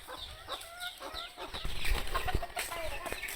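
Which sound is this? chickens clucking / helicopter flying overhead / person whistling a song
chickens clucking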